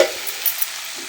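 Greens stirred in a frying pan while cooking a Bengali fish dish, giving a steady soft sizzle with light scraping of the stirring, alone and fairly quiet throughout.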